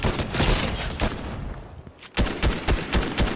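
Rapid bursts of gunfire from a Fortnite match, dense overlapping shots with sharp cracks and thuds, a brief lull in the middle before the volley resumes, loud and close throughout.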